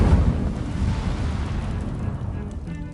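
A fire spell cast in Hogwarts Legacy bursts out with a loud, deep whoosh and boom that rolls on as a rumbling roar, gradually thinning over about three seconds.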